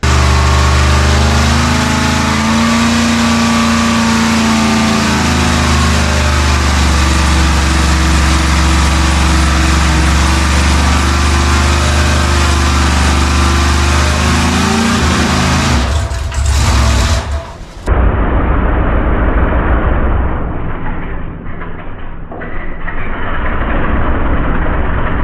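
A failing, damaged motor runs loud and steady at a droning idle for a long stretch, then cuts out abruptly and stumbles through a few rough, muffled bursts.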